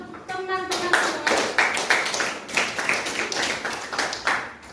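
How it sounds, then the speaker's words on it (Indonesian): A classroom of students claps together for classmates, a brief voiced note at the start giving way to rhythmic, fairly close group clapping in regular bursts. "Beri tepuk tangan untuk teman-teman semua."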